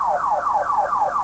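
A sensitive car alarm, tripped by a simple touch, wails in repeating falling sweeps about every quarter second, loud and steady with no voices.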